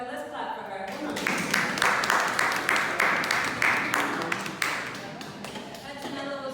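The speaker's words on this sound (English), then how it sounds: "Everybody, let's clap for her." A group applauds a woman at a gathering in Tanzania, with a burst of brisk clapping from several people that swells and then tapers off, with voices before and after.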